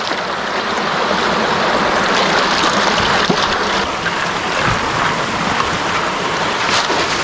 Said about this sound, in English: you can just simply take a bucket of unscreened material and dump it straight into the sluice box